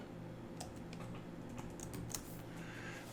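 Steady keystrokes on a computer keyboard while an HTML comment is typed into a document, a close, continuous run of light clicks with no talking.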